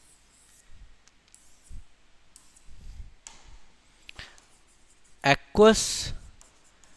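Writing on a board during a chemistry lesson comes as a few short, scratchy strokes and taps, scattered between stretches of a teacher speaking.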